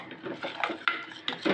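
A thickening cassava fufu dough worked in a pot, giving close, irregular scrapes, clacks and soft squelches as the spoon knocks the sides, all without talk.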